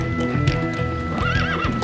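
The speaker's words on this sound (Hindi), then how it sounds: "घोड़े पर?" A horse neighs with a wavering whinny while hooves clip-clop in a close, steady rhythm, heard loudly above a faint background.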